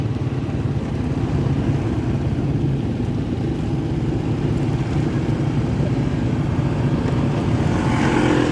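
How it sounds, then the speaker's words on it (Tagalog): Steady engine drone of a car or motorcycle on a rural road near a sturdy bridge, a continuous close, fairly loud hum that swells slightly toward the end. "Uy, may sasakyan na rito."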